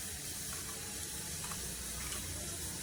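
Mustard seeds and cumin sizzling in hot oil for a tempering, a close, steady frying hiss with faint crackles and a small pop at the end.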